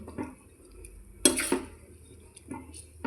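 A spoon stirs a sweet lemon pickle mixture with chili powder in a pan, giving soft scrapes and a few light metallic clinks. The sound is quiet, close and sparse.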